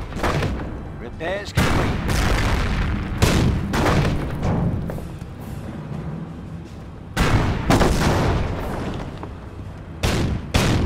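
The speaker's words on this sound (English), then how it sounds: "The Greyhound is taking Panzer fire!" Heavy Panzer tank cannon fire strikes a Greyhound armored car in Company of Heroes during the Normandy invasion at Montebourg, with loud booming blasts repeating every second or two, and a voice speaking briefly over the din.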